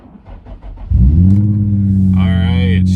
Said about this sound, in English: put the key in the ignition, let the gauges sweep, and hopefully this is what you hear when you start